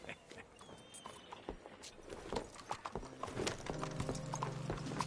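Horse hooves clip-clop steadily on the ground in the video game Red Dead Redemption 2, a close, regular walking rhythm that picks up slightly, with faint ambient background sounds.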